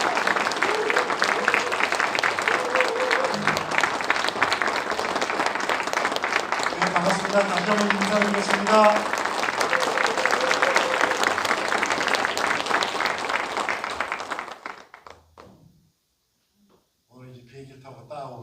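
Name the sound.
audience applause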